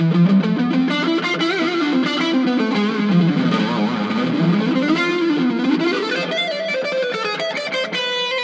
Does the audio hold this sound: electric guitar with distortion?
yes